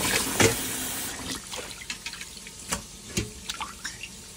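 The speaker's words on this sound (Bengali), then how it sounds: "সেদিকে আমি আমার মাছটা ধুয়ে নিলাম।" Water splashes and drips in a sink while kaika (garfish) is rinsed for a Sylheti satkora fish curry, with uneven bursts of running and spattering water close by and no voices.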